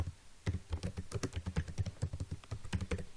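Quick, close typing on a computer keyboard, a dense run of crisp key clicks in a steady rhythm with no talking.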